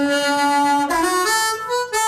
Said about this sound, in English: If I play the harmonica normally, it sounds like this.